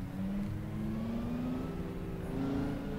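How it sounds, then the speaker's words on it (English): A car engine in the Project Cars racing game revs steadily and loudly, its rising whine sustained and alone throughout. "This car looks nice. It's a different car to drive. Sounds good. Sounds like a beast."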